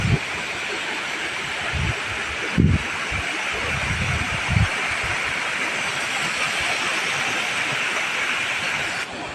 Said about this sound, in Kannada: ಅಂಡರ್ಗ್ರೌಂಡಲ್ಲಿ ನೀರು ಪಾಸ್ ಆಗ್ತಿರೋದು ಇಲ್ಲಿ ಕಾಣ್ತಿದೆ ನೋಡಿ ಇಲ್ಲಿ